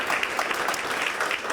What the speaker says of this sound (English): Big round of applause to everyone out here that served.